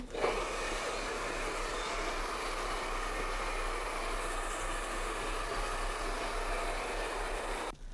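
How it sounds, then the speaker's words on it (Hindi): A hair dryer blows on hair after a salon protein treatment, a loud, continuous airy whoosh that holds steady for several seconds before cutting off near the end, with no speech over it. "ये अब आपने ड्रायर हम क्योंकि यूज़ करने लगे हैं, ड्राई करना शुरू कीजिए।"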